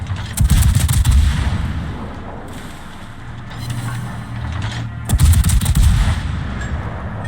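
Ship guns on the Incheon firing in a naval video game: loud booming salvos around the first second and again near five seconds, with a rumbling low drone and lighter repeated reports between.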